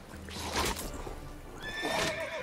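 A horse whinnies loudly and close in The Witcher 3: Wild Hunt, with a second neigh following a moment later and some faint clip-clop and rustling in between.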